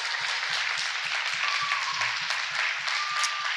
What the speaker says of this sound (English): can we give them a heartfelt round of applause for their excellent work?